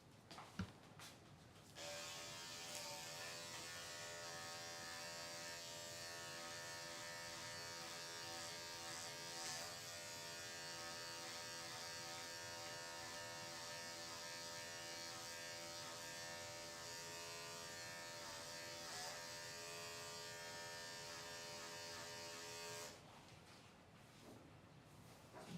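Electric dog grooming clippers run steadily for about twenty seconds, shaving a dog's coat in a hot-weather shave-down. The buzz is close and continuous, starting and stopping abruptly, with no talking over it.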